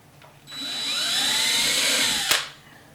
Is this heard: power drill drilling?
yes